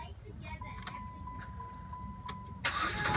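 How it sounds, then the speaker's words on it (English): Car starting: a steady chime and jangling keys come first, then the engine cranks and catches near the end and settles into a loud idle, close to the microphone. "Start the car up and see."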